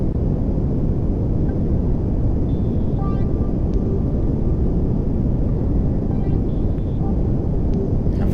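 Rocket engine in Kerbal Space Program burning at a little under quarter throttle to slow the craft, a steady low broadband roar that holds constant throughout with no pauses.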